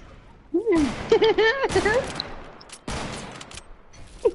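Sniper rifles fire in a video game 1v1 battle, with a couple of sharp, loud shots cutting through energetic talking from players.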